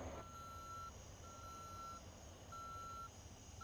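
A tow truck reverses in the driving game Motor Town, its backup alarm sounding three evenly spaced steady beeps over a low, continuous engine rumble.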